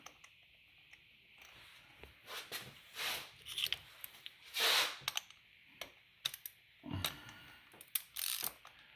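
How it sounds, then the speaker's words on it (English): A ratchet clicks in short bursts while screwing a spark plug into the cylinder head of a 2012-13 Hyundai Veloster, close and fairly quiet, with brief pauses and metallic handling noises between the turns. "We'll screw it down until it hits the base of the cylinder head, hand tight."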